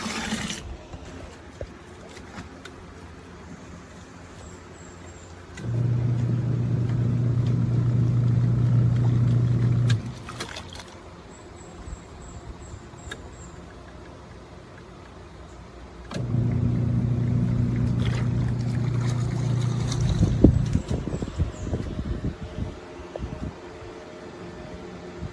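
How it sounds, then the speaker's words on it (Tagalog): Washing machine motor running on a solar inverter fed by a 100Ah LiFePO4 battery: two steady low hums of about four seconds each, separated by quieter gaps and occasional clicks. "At ito yung konsumo ng washing machine."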